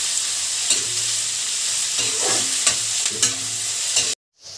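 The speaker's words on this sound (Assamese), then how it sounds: "আৰু কেপচিকামখিনিও অলপ দেৰি ভাজি থাকিম।" Capsicum frying in a pan makes a steady, loud sizzle broken by a few scraping stirs, then cuts off abruptly near the end.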